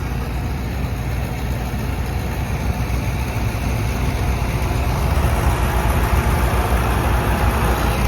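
A tractor engine idles in a steady, low, unbroken rumble, close and fairly loud, with no other sounds standing out.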